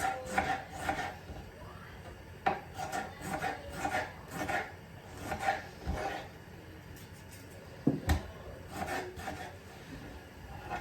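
Peppers being chopped with a knife on a board in a home kitchen while making an eggplant stew, a steady run of short rasping cuts with a few sharper knocks, fairly close and moderately quiet.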